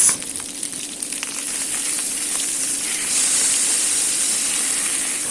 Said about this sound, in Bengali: মাছের দুপাশ লাল করে ভেজে নেব, যেহেতু এটা পাঙ্গাস মাছ